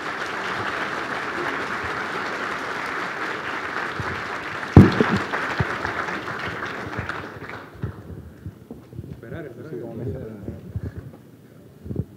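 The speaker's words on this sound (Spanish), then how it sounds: "un fuerte aplauso, por favor, para nuestros invitados" A crowd applauds guests at the close of a round-table panel on analytics projects, with steady dense clapping for about seven seconds before it thins out into voices and a few stray claps.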